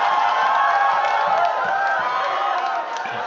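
Live crowd roaring and cheering at a Filipino rap battle, a dense, loud, sustained wash of many voices that eases slightly toward the end.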